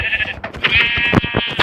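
A sheep in the Minecraft video game bleats in a few close, nasal cries, followed by quick clicks and game noises with no speech.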